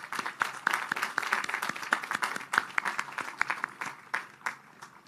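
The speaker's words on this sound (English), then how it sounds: "Will you join me in a round of applause for all of your supporters?" Audience applause at the 2024 Richard Bland College commencement ceremony, steady clapping from a large crowd for about five seconds, with individual sharp claps standing out over the dense patter.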